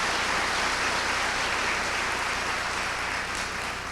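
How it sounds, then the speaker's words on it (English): Steady, dense applause from a large audience at a recruit class graduation ceremony, a continuous even wash of clapping that carries through the whole stretch without a break. "so give them a round of applause"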